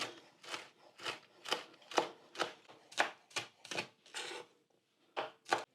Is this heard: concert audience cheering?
no